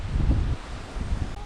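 Mild wind blows outdoors near a garden area, a soft broadband rush with gusty low rumble buffeting the microphone, brief and fairly faint.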